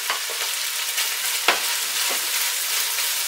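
Onions fry with diced bacon in a pan on the highest stove setting, giving a loud, continuous sizzle broken by a few stirring scrapes, with no talk.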